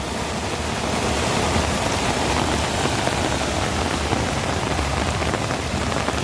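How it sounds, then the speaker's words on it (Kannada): Monsoon rain falls and splashes steadily, a loud continuous broadband hiss of water pouring and spattering on surfaces, with no voices over the constant roar. "ಇಲ್ಲಿ ನೋಡಿ ಯಾವ ಥರ ನೀರು ಬೀಳ್ತಿದೆ ಅಂತ"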